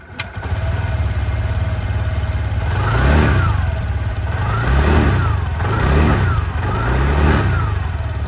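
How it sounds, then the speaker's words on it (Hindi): A TVS Jupiter 125 scooter exhaust revving in repeated bursts, the engine climbing and dropping several times over a steady low idle, close and loud with no voices. "मैं आप लोग को यहाँ पर जुपिटर की भी एग्जॉस्ट साउंड सुना दूँ"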